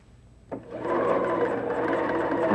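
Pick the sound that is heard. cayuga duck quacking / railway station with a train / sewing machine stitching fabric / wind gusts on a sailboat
sewing machine stitching fabric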